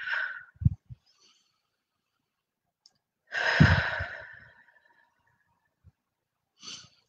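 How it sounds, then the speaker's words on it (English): Deep breaths during a guided full-moon healing meditation: a couple of slow, audible exhales and breathy sighs, close and quiet, separated by silent pauses. "take a couple deep breaths in through the nose and out through the mouth"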